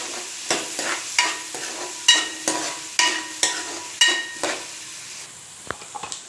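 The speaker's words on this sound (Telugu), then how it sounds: "ఆనియన్ కొంచెం వేగినాయి." Onions frying in oil and being stirred in a pan for chicken curry: a continuous sizzle broken by regular scraping strokes about twice a second, fairly close, with a couple of light clinks near the end.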